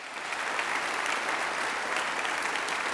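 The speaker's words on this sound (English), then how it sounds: "I've just broken the first rule by clapping at the lectern" Clapping begins at the lectern of a university graduation ceremony and swells into dense, sustained applause from a large audience, even and loud from start to finish without any voices.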